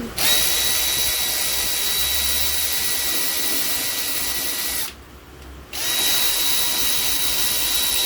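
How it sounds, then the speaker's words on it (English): A Milwaukee power tool spins loose bolts on a Honda CBR1100 Blackbird motorcycle, a loud, steady, close-up whir that runs for several seconds, stops briefly and then starts again. "so we'll undo these two bolts as a start. Crack out my trusty Milwaukee."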